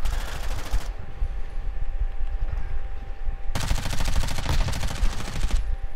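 Rapid automatic gunfire from a video game shooter crackles in two loud sustained bursts, with a quieter gap between them where only low rumble remains.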